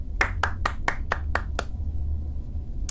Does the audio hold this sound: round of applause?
yes